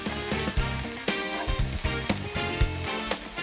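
White spice paste and green chilies sizzle while being stir-fried in a pan, with a steady close frying hiss and rhythmic scraping and clinking of a spatula.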